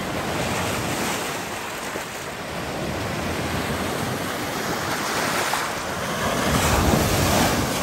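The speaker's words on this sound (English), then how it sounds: "Harrison has the anti-kayak waves up right now." Waves churn on Harrison Lake with a steady, loud broadband wash and heavy wind buffeting the microphone, swelling slightly toward the end, with no voices.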